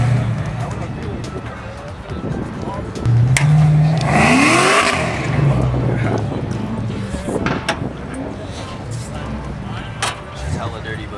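Shelby Cobra engine with its exhaust, revving up into a loud, rising roar that peaks midway, then settling back to a rumbling idle, with people talking nearby throughout.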